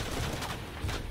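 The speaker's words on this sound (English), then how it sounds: "Why are they so intent on shooting the whole place up?" Shots ring out in a Shadow of the Tomb Raider firefight in San Juan, with two muffled bursts in quick succession over a dense, noisy backdrop.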